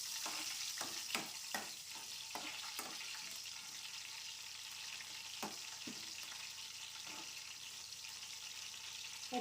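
Cumin seeds and green chillies fry in hot oil with a continuous soft sizzle, while a spoon stirs through them in several distinct scraping strokes, close and fairly quiet.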